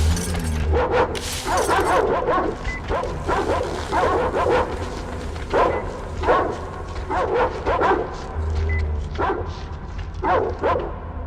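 Repeated dog barks in the video game Metro Exodus, loud, close bursts in an irregular rhythm with short gaps, set over a low rumbling game ambience.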